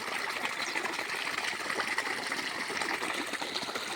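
Irrigation water runs through a millet field, a steady broadband rush and trickle that holds even and unbroken throughout, close by with no talk.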